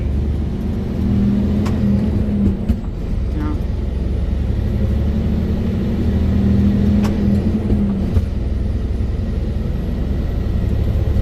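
A car engine hums and revs steadily from inside the cabin, with pitch changing through quick gear shifts, while people talk over it throughout.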